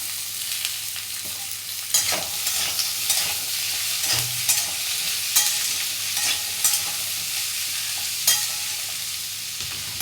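Potatoes and onion fry in a pan with a continuous close sizzle, punctuated every second or so by scraping stirs of a spatula against the pan.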